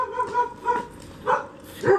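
Several dogs bark in short separate bursts at a moderate distance, faint to medium loudness over a quiet background.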